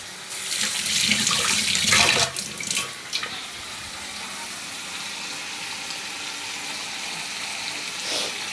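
A little water poured into a pan of mustard-paste fish curry with brinjal, a brief rushing splash for a couple of seconds followed by a steady low simmering hiss, close by.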